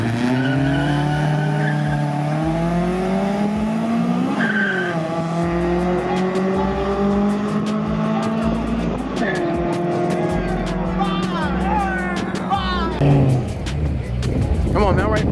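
Cars drag racing roar past continuously, with rising engine notes shifting through gears and tire noise, loud and close throughout, with a brief sharp burst near the end.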